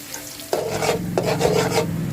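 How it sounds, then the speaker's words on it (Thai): Shallots fry in oil over medium heat with a continuous bubbling sizzle, broken by two sharp scraping stirs of a spatula across the pan. "แล้วก็จะลงหอมแดงค่ะลงไปเจียวต่อนะคะ"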